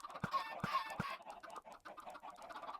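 Chickens and chicks in the Minecraft video game cluck in a few short, close bursts, then keep up softer, scattered chirping and clucking on an automatic chicken farm.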